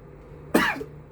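A single sharp cough bursts out midway, close and loud, with quiet room tone on either side.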